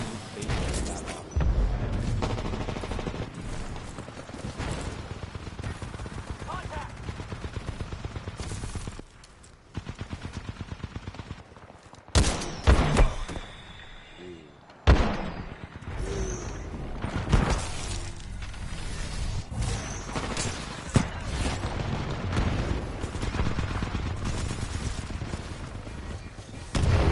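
Rapid bursts of gunfire and booming shots from a Titanfall 2 match fill a dense, continuous battle mix, with a few louder cracks standing out near the middle.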